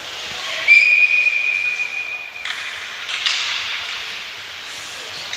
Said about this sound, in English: the whistle came and we'll get a restart